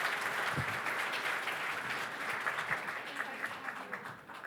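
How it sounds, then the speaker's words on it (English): A conference audience at Invest: Miami 2018 applauds the panelists, with dense, even clapping that holds steady and fades slightly toward the end, filling the hall at moderate distance. "A round of applause for our panelists."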